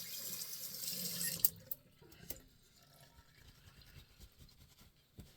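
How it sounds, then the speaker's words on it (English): A shaving brush rinsed under a running tap: water gushes loudly, then stops, followed by quieter drips, handling clatter and small knocks nearby. "Wash this brush out a little."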